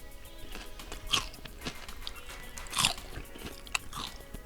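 Crispy roast potatoes with bacon and parsley, served with a roast chicken, are bitten and chewed up close, producing loud, crisp crunches in irregular bursts with quieter chewing between them and no talking.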